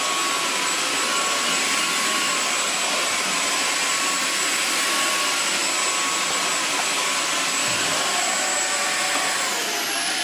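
A Xiaomi Jimmy H8 Pro stick vacuum cleaner runs steadily with a loud, high-pitched whine and airy roar that shifts subtly in suction strength, with no voices over it.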